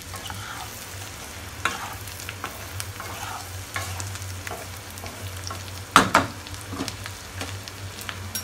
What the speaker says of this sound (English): Now add the fried aloo or fried potatoes.